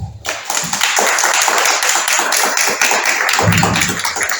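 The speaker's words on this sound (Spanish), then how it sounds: "la recibimos con un fuerte aplauso" Clapping from an audience at a seminar lecture, dense and steady throughout, welcoming a speaker to the podium in a hall.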